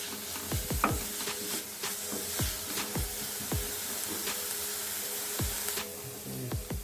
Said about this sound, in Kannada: ಈಗ ಇದು ಹಸಿ ವಾಸನೆ ಹೋಗೋವರೆಗೂ ಚೆನ್ನಾಗಿ ಫ್ರೈ ಮಾಡಬೇಕು